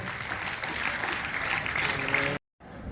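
Audience applause for a kabaddi player at a rural sports event, a sustained burst of many hands clapping for about two seconds before stopping abruptly.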